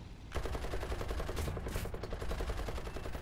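Continuous rapid gunfire from a Char 2C bis tank in War Thunder rattles nonstop, dense and loud, with a brief sharper burst midway; game weapon fire with no talking.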